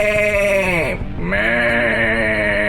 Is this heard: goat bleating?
yes